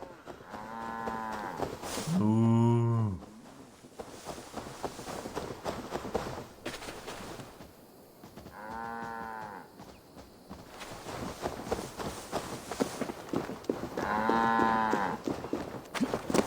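Cattle in Assassin's Creed Valhalla moo three times, one long low call in the middle flanked by softer ones, over a steady bed of game ambience; a voice briefly murmurs.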